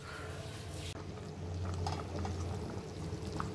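Salted, oiled potatoes boil in a covered pot on a gas stove, giving a steady close bubbling and hissing simmer with faint lid rattles and clinks, no voices.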